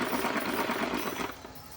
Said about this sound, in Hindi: इस तरह से इस पर हम किनारे पर सिलाई लगाएंगे